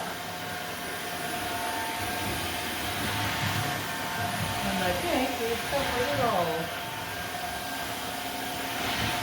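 A Maircle F1 wet mop runs on linoleum with a steady motorized whir that continues under a person talking.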